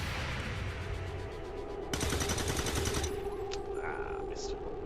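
Gunfire bursts in XCOM 2: War of the Chosen, a loud rapid volley over a game soundscape, followed by fainter electronic chirps and blips, with a voice talking intermittently underneath.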